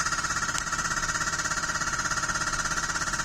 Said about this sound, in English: we started hammering now